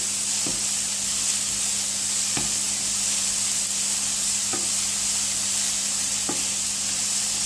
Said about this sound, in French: Je vais mélanger mes petits légumes.